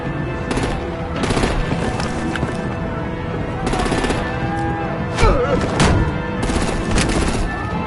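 Rapid gunfire and bursts of artillery fire in the Batman: The Enemy Within video game, loud and continuous across a busy battle mix with occasional heavier booms and voices speaking over it.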